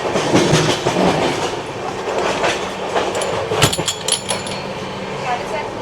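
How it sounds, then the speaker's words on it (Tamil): A train departing Varanasi, India, rumbles along at speed with steady rattling and clacking of wheels on the rails, loud and close, with a few metallic clinks. "ட்ரெயின் கொஞ்சம் வேகமாக போகுது"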